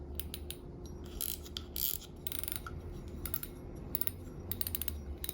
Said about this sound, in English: You can hear the drag clicker.